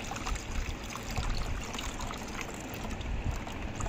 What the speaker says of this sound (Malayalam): ഇനി ആ വെള്ളം അരിച്ച് ഒരു പാത്രത്തിലേക്ക് മാറ്റുകയാണ് കേട്ടോ.